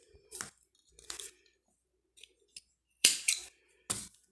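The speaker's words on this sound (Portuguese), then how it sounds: "aqui eu já posso cortar aqui o fio" Scissors snip through crochet yarn on a flower table runner in a series of short, close, crisp cuts: two early snips, a faint pair in the middle, then three sharper cuts near the end, with no talk.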